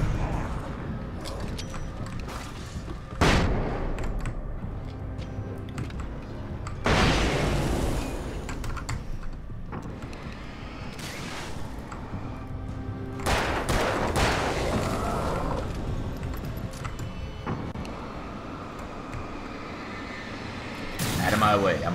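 Flashbang bursts and gunfire in the video game Alan Wake, several sharp loud blasts and rattling shots spread across the stretch over a constant game soundscape, with a voice talking in places.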